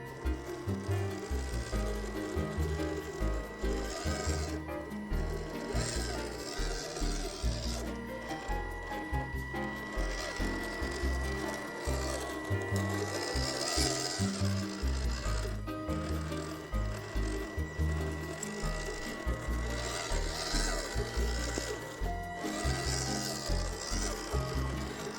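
High-RPM 370 motor fitted in a WPL two-speed gearbox running at low throttle, a continuous gritty whine with rapidly pulsing, uneven gear chatter, close and steady throughout.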